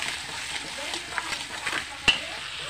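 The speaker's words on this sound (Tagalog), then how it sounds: "Ayan guys, naglagay na po tayo ng margarine." Margarine sizzling in a pan with garlic while cooking java rice in a home kitchen: steady soft frying crackle with occasional stirring clinks and one sharp utensil tap, a voice talking over it.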